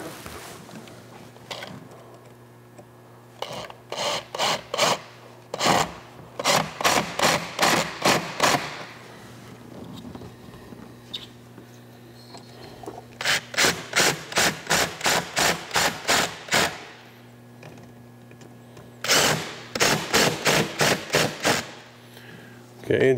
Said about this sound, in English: And then at this point, we can go ahead and tighten up our clamps.